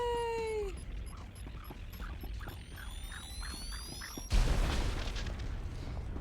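A bomb blows up on a platform in a video game, arriving as a sudden loud broadband burst about two-thirds of the way through, then a rumbling tail. Before it come rising whistling tones and a run of small repeated pops.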